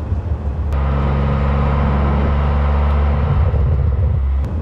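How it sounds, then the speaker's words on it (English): Car engine cruising in top gear at barely 2,000 RPM, a loud steady low drone with constant road rumble inside the cabin, unbroken and alone. "There's a drone in the high gears."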